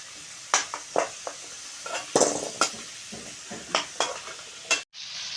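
Potatoes fry in a pan until reddish-brown, a low sizzle under frequent sharp scrapes and clinks of a spatula stirring against the metal, close and without speech.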